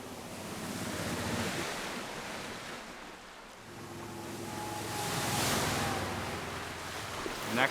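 Continuous rushing water noise with wind beside a boat, about 80 decibels, swelling and fading like waves lapping close by, with a faint low engine hum underneath.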